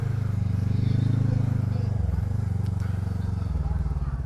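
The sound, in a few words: Voge 500DS motorcycle engine under throttle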